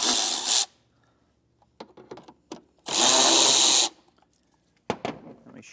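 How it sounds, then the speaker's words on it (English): A power drill with a T20 Torx bit backs out screws from a trailer threshold in two loud whirring bursts, one short and one about a second long, separated by quiet clicks and handling noises. "those are all going to require a T20 Torx bit. And we'll remove each one of those."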